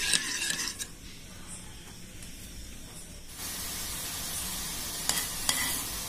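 Gooseberry (amla) pickle mixture with tamarind boiling and thickening on a stovetop, stirred with a spoon; soft bubbling sizzle and scraping strokes, quieter at first and then louder and steadier, with a couple of sharp clinks near the end.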